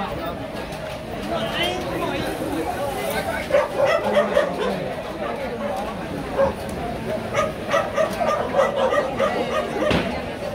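A crowded dog breed certification show for H'Mông bobtail dogs, with many dogs barking, yipping and whimpering throughout amid a busy crowd, while people talk nearby.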